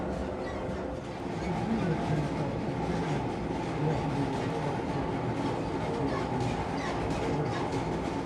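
A train slowing down rumbles along with a steady, dense roar of wheels and carriages, loud and continuous throughout, in Alaska.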